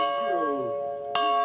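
A touchdown bell at a high school football home field rings out loud and sustained, its bright overtones holding throughout, with a fresh strike near the end.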